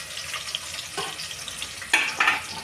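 Onions and whole spices frying in oil in a pressure cooker for chicken dum biryani, a soft, continuous sizzle and crackle with a couple of brief louder stirring scrapes, close by and without talking.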